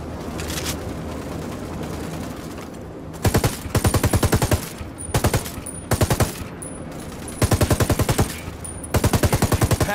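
An Apache helicopter firing in Ghost Recon Wildlands, loud rapid bursts of heavy automatic cannon fire repeating in short volleys over a constant roar of battle noise.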